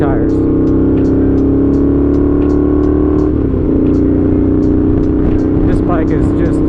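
Honda GL650 motorcycle on knobby tires ridden on a road for a shakedown test, its engine a steady loud drone that dips briefly mid-ride before pulling again, with wind noise throughout.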